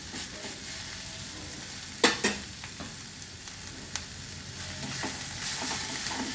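A spoonful of ghee sizzles in a pan of papaya curry, a steady close hiss broken by a couple of sharp clanks and stirring scrapes, with no speech.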